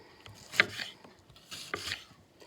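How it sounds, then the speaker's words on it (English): Two separate bursts of knife strokes chopping vegetables on a board, a quick cluster early and another about a second later, moderately close with quiet gaps between. "And we keep on chopping away."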